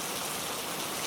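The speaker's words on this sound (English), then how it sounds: "Only the sound of the rain pattering on the roof." Steady rain patters on a roof, a dense, even hiss of countless drops with no breaks, close and moderately loud throughout the short stretch.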